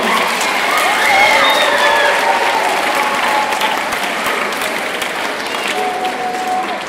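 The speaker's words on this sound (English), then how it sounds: "Please give these creative spirits a round of applause for their hard work and service to the school" Loud sustained applause from a school awards ceremony audience honouring students, a thick continuous patter of many hands that holds strong, then eases slightly toward the end.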